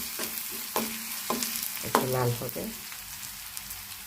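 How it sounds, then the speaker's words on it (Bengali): Onion and garlic sizzle softly in hot oil in a pan, with a few sharp scrapes and clinks of a stirring spoon breaking through the steady frying hiss. "প্রথমে তেল দিয়ে পেঁয়াজ রসুন দিয়ে দিলাম, একটু লাল হবে"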